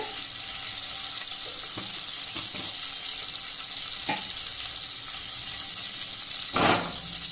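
Continuous crackling sizzle of mustard seeds spluttering in hot oil in a kadai, with a few sharper pops and a brief louder burst near the end.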